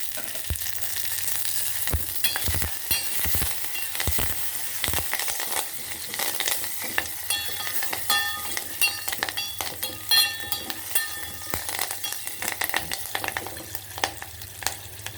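Cumin, mustard seeds and curry leaves sputter in hot oil in a pan. A busy close sizzle is broken by sharp pops, spoon scrapes and clinks, with bursts of spitting early and quieter crackling later.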